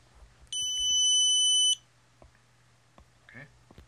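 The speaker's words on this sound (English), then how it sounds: "it will go to the North Celestial Pole and then beep" An OnStep STM32 telescope mount controller gives a single steady electronic beep of about a second, loud and close, with a hum underneath and a few faint clicks afterward.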